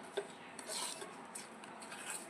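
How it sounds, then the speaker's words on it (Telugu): A spoon stirs a milk and sugar mixture for puffed rice burfi in a metal vessel, giving soft close scraping and rubbing strokes with a few light clinks, steady and unaccompanied by speech. "పాలు, పంచదార ఇవన్నీ మొత్తం మంచిగా మిక్స్ అయ్యేలాగా స్పూన్తో మిక్స్ చేసుకోవాలి"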